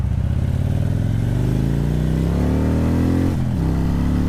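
A motorcycle engine, referred to as a Harley, holds a loud steady idle then revs up with rising pitch and a quick throttle blip, sounding close and constant with no talk.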